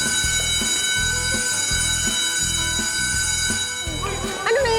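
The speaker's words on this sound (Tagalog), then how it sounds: "Parang tunog fire alarm yun ah." A school fire alarm rings continuously as a loud, steady electronic tone with dense overtones, heard close and alone, with a rapid repeating pulse underneath and a brief rising squeal near the end.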